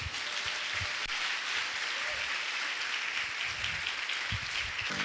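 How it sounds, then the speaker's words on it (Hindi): Steady applause from a church congregation during a Hindi sermon, a dense unbroken wash of clapping held at an even level throughout, with low thumps now and then beneath it. "जोर से बजाओ ताली यीशु के लिए इस वक्त।"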